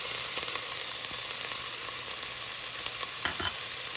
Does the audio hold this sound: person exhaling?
no